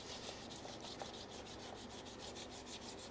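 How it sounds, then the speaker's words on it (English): Aluminum foil dipped in Coca-Cola scrubs rusty chrome in steady, rapid back-and-forth strokes, a continuous close rasping with rhythmic pulses and no talking. "take the foil, dip it in the Coke, and then get to scrubbing"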